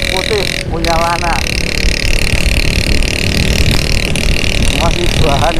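A white Honda CB100 motorcycle engine running steadily, a loud continuous close-up drone with a steady low rumble, with brief chirps of other sound over the top and no speech.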